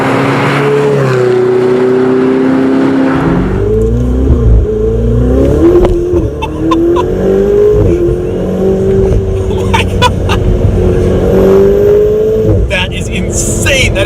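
A Ferrari 488 Spider with its turbocharged engine pulls hard under full throttle, a loud, close engine note climbing steadily through the revs with a brief shift dip, while someone talks excitedly over it throughout.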